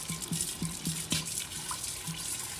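A kadai pan is washed under running water in a village kitchen, with a steady splash of tap water and a few soft knocks and scrapes of metal, close by and with no talking.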